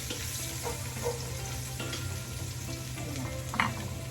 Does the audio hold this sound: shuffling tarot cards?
no